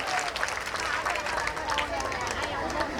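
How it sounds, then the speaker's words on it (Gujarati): A crowd claps to welcome a guest at a gathering, steady applause running throughout with voices and chatter mixed in. "જોરદાર તાળીઓથી એમનું સ્વાગત કરીશું."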